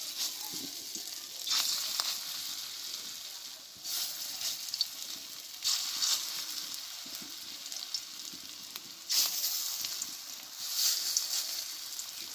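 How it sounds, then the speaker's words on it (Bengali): Steady crackling sizzle of cauliflower-leaf fritters frying in hot oil, with brief louder bursts every few seconds; no voices. "বাকিগুলো একইভাবে আমি ভেজে নেবো"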